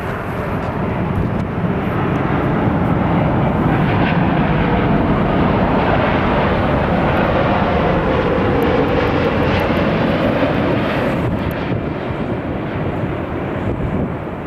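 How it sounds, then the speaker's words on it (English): A Boeing 787 Dreamliner airliner passing at an airport, its loud broadband engine roar sustained and swelling across the whole stretch, with some wind noise and no talk. "Let's go for the 787 Dreamliner."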